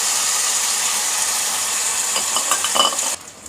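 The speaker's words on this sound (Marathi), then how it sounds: "यात अशी फोडणी वतून घ्यायची" Hot ghee tempering is poured into wheat kheer, giving a loud, steady close-up sizzle that crackles briefly before dropping away sharply near the end.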